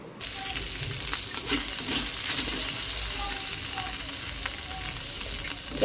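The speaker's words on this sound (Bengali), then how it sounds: "দেখো তেলের ভিতরে মাছগুলো ভেজে নিলাম, সবগুলো মাছ এইভাবে।" Dried fish fry in oil in a wok, giving a steady close sizzle with crackling pops and occasional scraping stirs throughout.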